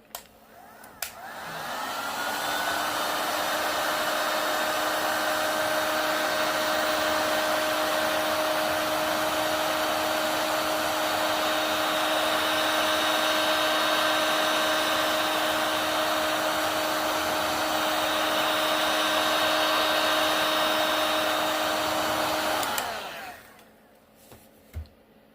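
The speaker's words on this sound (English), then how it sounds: "Don't heat up the whole board. Don't heat up your whole project because you'll just have to do it again." Heat gun running continuously to soften epoxy on the back of a wood board, a loud, close, steady blowing whine with a constant hum that starts abruptly and cuts off after about twenty seconds.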